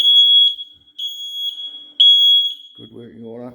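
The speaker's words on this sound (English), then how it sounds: "The kitchen smoke alarm." Kitchen smoke alarm sounding loud, piercing, high beeps in a steady rhythm, about one every half second, before a voice starts talking over the end.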